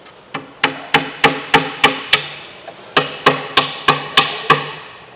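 A high-density plywood sheet struck to show its strength: two sharp runs of six or seven evenly spaced hard knocks, each with a brief wooden ring, close and loud with no talk.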